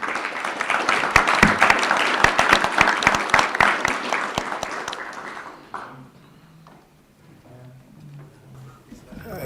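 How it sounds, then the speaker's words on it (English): Audience applause for a panel at an energy cooperation conference, loud dense clapping for about six seconds that then dies away to a quiet room with a faint voice. "please join me in giving them a round of applause"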